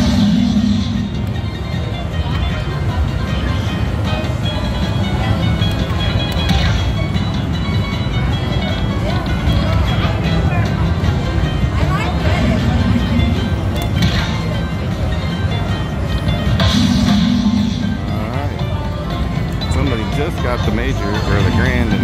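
A Dragon Link Silk Road slot machine in a casino playing its loud, continuous electronic jingles and tones through repeated spins, with a voice speaking over it.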